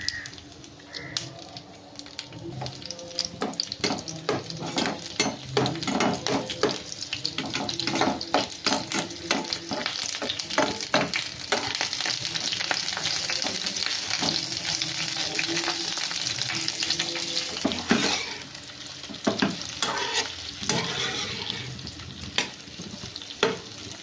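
Chopped garlic, green chilies, onion and capsicum sizzle and crackle in hot oil for chili chicken, with steady frying hiss and repeated stirring scrapes up close.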